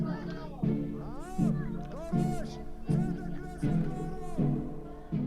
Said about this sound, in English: What you're hearing is a crowd of protesters in Tel Aviv